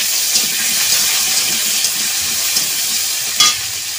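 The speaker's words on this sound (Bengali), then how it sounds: "এদিকে ভালো করে ভেজে নেব।" Potatoes frying in hot oil with bay leaf, five-spice and green chilli, a steady close sizzle with light stirring scrapes throughout and no talk.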